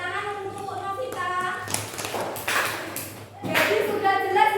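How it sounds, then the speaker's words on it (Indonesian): Children in a classroom clap for a classmate in a short, loud burst of applause. A teacher's voice is heard just before it. "Tepuk tangan untuk Novita."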